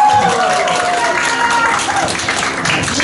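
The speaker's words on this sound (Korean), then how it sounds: "박수 한번 주세요" An audience of care workers applauds at a folk singer's performance, a dense, steady wash of clapping from a crowd with a voice briefly audible over it.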